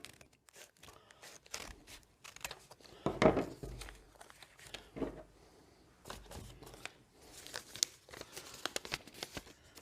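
Paper, folded in half, being cut through the middle with scissors: a string of crinkling snips and rustles, irregular and fairly close, with quiet pauses between bursts.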